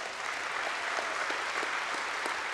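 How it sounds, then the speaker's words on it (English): A steelworkers' union convention audience claps steadily, a broad, even wash of applause from a large hall with no talking over it. "Please give them a round of applause."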